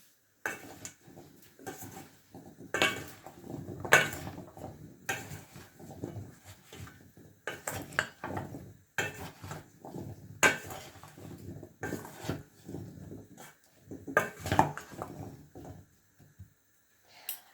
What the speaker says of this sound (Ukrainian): Додаю 1 столову ложку борошна і перемішую разом з сіллю та перцем.